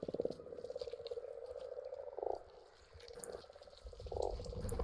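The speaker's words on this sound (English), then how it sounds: "You're hearing frog noise in the background." Frogs croak in a steady, pulsing chorus somewhere in the background, the rhythmic calls swelling louder in a few bursts, with no talking over them.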